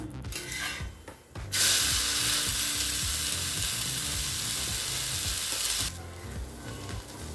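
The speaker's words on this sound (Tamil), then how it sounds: "இப்போ தோசை இந்த சைடு வெந்துருச்சுங்க, திருப்பி போட்டுக்கலாம்" Rava uttapam with onion and tomato cooking on a hot pan, a loud steady sizzle rising sharply partway through, close, with softer scraping before and after.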